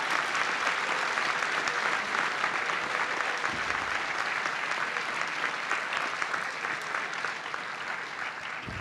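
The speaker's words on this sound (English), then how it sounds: "Please join me in a round of applause in recognition of our scholarships and award recipients." A crowd applauds steadily for scholarship and award recipients at a high school senior awards night, dense even clapping from a large audience, loud and sustained throughout with no letup.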